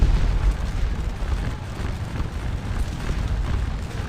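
Cannon artillery fire in the Napoleonic battle game Scourge of War Waterloo, heard as a continuous low rumbling roar of distant guns with no clear separate shots, steady and moderately loud throughout.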